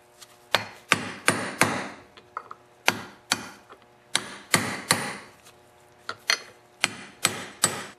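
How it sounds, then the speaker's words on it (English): Sharp metallic taps of a socket driving an ATV front wheel bearing into its hub, struck in short irregular bursts of two or three blows with brief pauses, close and clear with no talk. "And again, I'm just tapping the outer part of the bearing."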